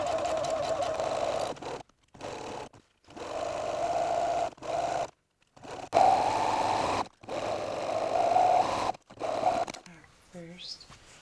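A sewing machine runs in bursts of a few seconds each, stitching rows of a pinned quilt together. The steady motor whir stops and starts several times, with short silent pauses between runs.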